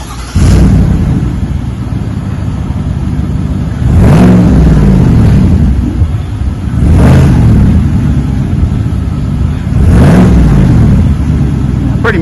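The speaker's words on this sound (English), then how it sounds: "Installed a nice Flowmaster Super 44 muffler. Give it a little rumble." A 2025 Silverado fitted with a Flowmaster Super 44 muffler revs several times in a row, each loud, deep exhaust swell rising and falling back to a heavy, rumbling idle.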